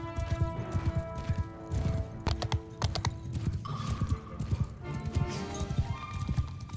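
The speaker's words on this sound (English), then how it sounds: "Okay, they have horses too." Horses gallop in a Mount & Blade 2: Bannerlord battle, a steady rapid clip-clop of hooves running throughout alongside busy game music and a brief whinny, with no talking.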